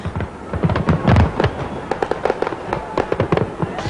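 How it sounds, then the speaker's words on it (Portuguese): New Year fireworks fired from barges over a huge show, a dense continuous barrage of booming bursts and crackling pops, loud and sustained with crowd noise beneath. "8 balsas lançaram 156 toneladas de fogos de artifício."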